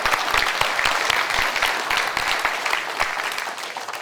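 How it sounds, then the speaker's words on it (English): A crowd at an economic summit keynote applauds dignitaries, a steady, even roar of many clapping hands with crisp individual claps standing out throughout. "So let's give them a round of applause too."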